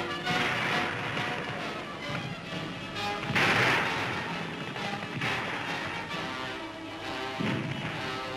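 Gunfire crackles through a 1944 Paris street battle, a dense, continuous wash of loud rifle and small-arms shots with sharper bursts rising from the clamour, as on an old newsreel soundtrack.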